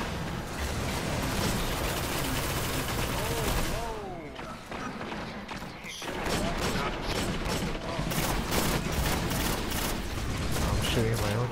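Gunfire in the video game Destiny during a multiplayer zone-capture match: dense, continuous rattling bursts of shots with mechanical clatter, loud and busy throughout, with a brief lull around the middle.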